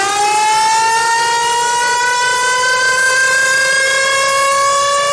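A synthesized death-trap effect with LFO modulation and pitch bend: a loud, sustained, buzzy tone rich in overtones that glides slowly upward in pitch for about five seconds, siren-like, with no other sounds.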